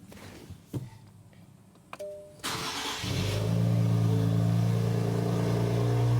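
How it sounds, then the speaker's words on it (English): A 2023 Nissan Z engine with aftermarket full downpipes cold-starts, cranking and firing up, settling into a loud, steady rumbling idle after a couple of clicks and thumps. "so we are going to get a proper cold start"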